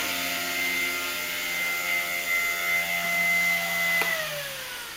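An Align 150 RC helicopter hovering indoors, its small motor and rotor giving a steady whine that drops in pitch near the end as it settles to land, heard alone and close.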